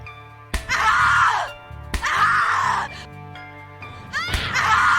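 Victim screaming in the horror video game The Cat Lady, with three loud anguished screams separated by gasps and groans, close and intense.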